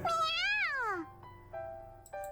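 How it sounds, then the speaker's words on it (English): A cat in the visual novel game YOU and ME and HER gives one long, clear meow that bends up and down, followed by two short, softer chirping mews, close and alone. "At my feet, Eru meows happily"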